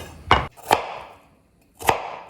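A knife cuts potato pieces for jajangmyeon on a wooden board, three crisp close knocks, two quick together and one after a short pause, with no speech.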